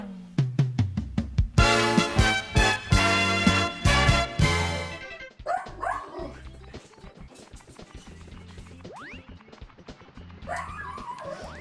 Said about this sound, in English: Now you barking.